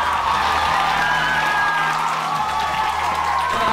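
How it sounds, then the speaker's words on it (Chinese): A live audience applauds to welcome a performer onto a comedy stage: a dense, continuous wash of clapping and crowd noise that holds at an even, fairly loud level throughout. "我们热烈的掌声欢迎阿迪"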